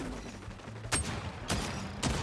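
Gunfire in the video game xDefiant: three quiet shots spaced about half a second apart over a low background hum.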